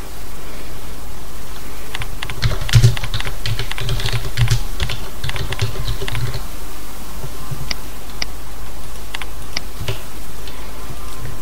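Fast typing on a computer keyboard, close and clear, with dense irregular clacks and occasional louder key strikes continuing throughout with no talking.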